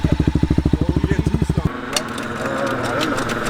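A two-stroke 100cc Honda Ruckus scooter engine at a drag race pulses in rapid, loud putters up close, then gives way to a broader, rougher revving drone in the open air.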